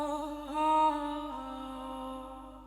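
A sustained vocal sample treated with reverb, EQ and a low filter plays alone as soft, smooth harmonic tones that swell briefly, then fade slowly into a muted background wash.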